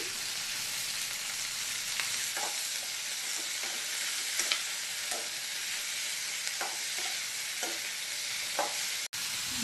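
Curry leaves, tomato and coriander frying in a pan with a steady, dense hiss of sizzling oil and occasional soft stirring taps, with no one talking.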